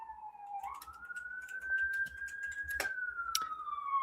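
A police siren wails outside in a single long sweeping tone that rises, holds steady and then slowly falls, heard at a moderate distance with a few faint clicks and knocks nearby.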